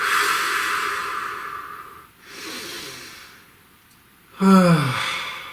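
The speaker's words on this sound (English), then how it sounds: "Please take a nice deep breath" A person draws in a long, deep breath and lets it out slowly, then gives a shorter, louder sighing exhale, all close and quiet with no talk.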